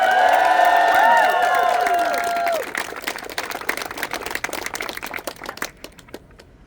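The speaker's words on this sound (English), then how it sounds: "Can I get a big round of applause?" A crowd at a university student encampment claps and cheers for an incoming speaker. Voices and whoops sit over the clapping at first, then plain applause carries on and trails off into a few last claps.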